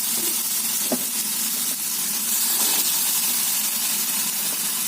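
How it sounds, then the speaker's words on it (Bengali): Soybeans go into a hot frying pan with oil, giving a steady, loud hissing sizzle that runs throughout, with a faint click early on. "এখন আস্তে আস্তে সয়াবিনগুলো দিয়ে দিব।"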